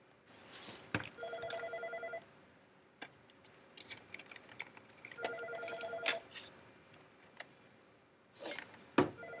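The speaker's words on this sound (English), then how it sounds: "Sorry, ignore my phone right now." A phone rings indoors in repeated electronic bursts, two clear ring cycles with pauses between, fairly quiet and alone with small clicks and knocks around them.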